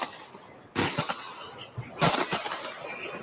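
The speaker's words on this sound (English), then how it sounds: "They're setting off fireworks right now" Fireworks go off at night during a curfew in two clusters of sharp crackling bangs with rough noise in between. They are loud and fairly close, and there is no talking.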